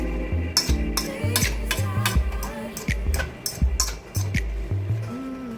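A utensil fluffing cooked rice in a pot, a close series of scraping, stirring strokes with light clinks against the pot in an irregular rhythm, no talking.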